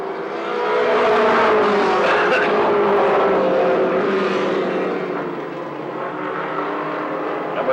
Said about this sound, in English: they're off and racing 4 more laps